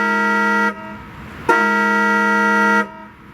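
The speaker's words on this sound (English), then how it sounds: "The next interesting quirk is the Maybach's horn" Two loud, close car horn honks from a Maybach 57S, the first about half a second, the second longer at over a second, each a rich steady tone.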